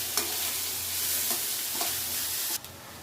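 Mixed vegetables stir-fry in a pan for fried rice, a continuous close sizzle broken by several light scrapes and taps of a spatula at irregular intervals.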